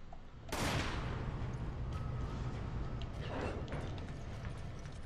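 Resident Evil 5 gameplay gunfire: a single sharp shot rings out, and a fainter second report follows a few seconds later over low, continuous game ambience.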